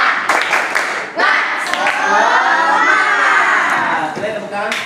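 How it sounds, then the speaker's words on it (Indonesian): A classroom of students performs a rhythmic spirit clap, with quick clap bursts at the start and end and loud shouting and chanting voices filling the middle. "kita tepuk semangat dulu ya"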